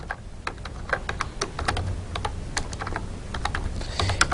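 C++ code being typed on a computer keyboard, a steady run of quick, close key clicks at an uneven rhythm over low background hum.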